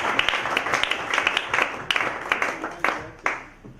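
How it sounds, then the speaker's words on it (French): An audience at a talk on romantic life in marriage breaks into applause, a dense patter of many hands with sharper individual claps standing out, steady and fairly close before thinning toward the end. "est-ce que nous pouvons donner une première acclamation pour encourager Ali Moussoungaï?"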